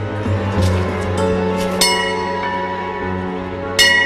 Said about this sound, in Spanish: Desde ese momento, la campana llama a la oración.